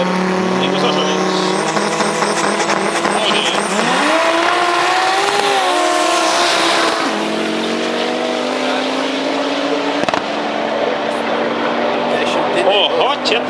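Drag racing cars, including a BMW, launching at a Lithuanian championship round in Kazlu Ruda, with loud engines screaming and rising in pitch as they pull away, under continuous commentary.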